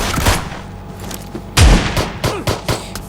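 Shotgun blasts and gunfire in the mobile battle royale game PUBG Mobile, a loud burst of booming shots followed by several sharper bangs in quick succession, close and punchy.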